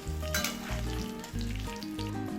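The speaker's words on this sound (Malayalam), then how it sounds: "മീൻ വറക്കുമ്പോൾ ഞാൻ ഇതിൻ്റെ അകത്ത് കുറച്ച് കറിവേപ്പില ഇട്ട് കൊടുക്കലുണ്ട്." Fish frying in hot oil with curry leaves, a steady close sizzle with bubbling crackle throughout, alone with no talk.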